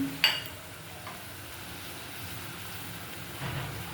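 Masala being sautéed in a pan with ground peanut paste for an egg fry curry, a faint low sizzle with an occasional spoon scrape near the start and a gentle rise in frying noise near the end.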